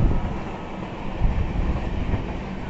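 Passenger train on the Vizag Steel Superfast Express route rumbling steadily as it rolls onto a bridge near a city's outskirts, a continuous close rail roar with faint wheel rhythm and no talk.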